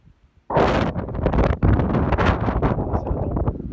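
Strong wind gusting across an open golf course, a loud, continuous roar buffeting the microphone that starts abruptly after a brief quiet moment and stays heavy with rough surges throughout.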